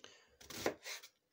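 Onion cut with a knife for Soviet-style shashlik, a few quick chopping strokes on a board heard up close, short and fairly quiet.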